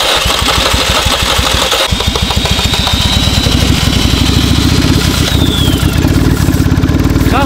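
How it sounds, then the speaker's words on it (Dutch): An Opel Corsa engine running rough like a tractor, a loud close-up uneven chugging idle with ragged pulsing, steady throughout with no talk over it. "Hij loopt echt als een trekker."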